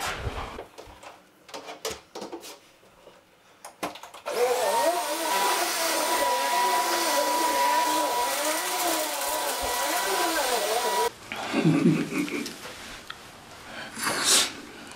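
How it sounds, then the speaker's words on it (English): A vacuum cleaner whirs steadily for several seconds at close range, its pitch wavering as it moves, then cuts off abruptly amid handling noises. "We're just gonna vacuum real quick and be on our way out."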